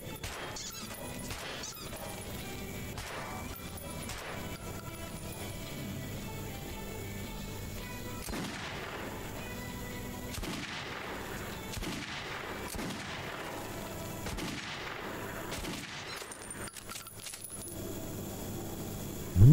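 Rapid gunfire at a shooting range in the video game Metro 2033 Redux, with repeated close, loud shots and clattering impacts running steadily throughout without speech.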